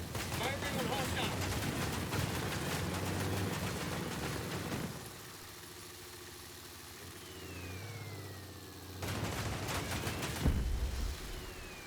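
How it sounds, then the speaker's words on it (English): Dense bursts of rapid automatic gunfire in Ghost Recon Breakpoint crackle over a running vehicle engine, pause for several seconds while the engine hums on, then a fresh volley erupts with one heavy thump. "Firing on hostile."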